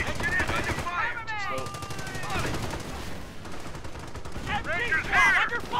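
Bursts of machine-gun and rifle fire in the World War II strategy game Company of Heroes crackle steadily at moderate loudness, mixed with game voices calling out.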